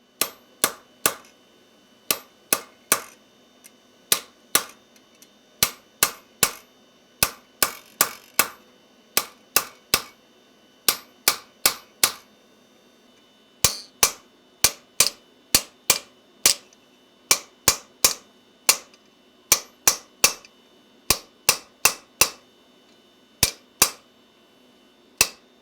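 Hammer blows on a hot-cut chisel driven through hot metal over an anvil's cutting plate, sharp, ringing metallic strikes landing in steady groups of three to six with short pauses between, bright and close.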